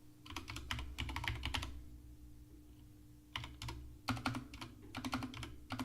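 Bursts of rapid keystrokes on a computer keyboard during programming, two clusters of clattering typing separated by a pause of quiet room noise, close and fairly loud.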